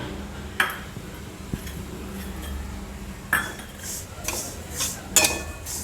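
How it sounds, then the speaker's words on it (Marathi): Sesame seeds roasting in a pan for date-based protein ladoos, with a low steady background crackle and a few scattered metallic clinks and taps of the utensil against the pan. "तिळाचा पण तळतळ आवाज येईल."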